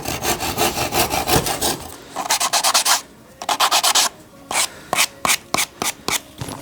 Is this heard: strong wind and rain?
no